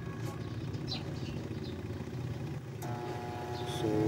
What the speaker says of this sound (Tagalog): umuugong lang siya at hindi siya nag-work, hindi siya umiikot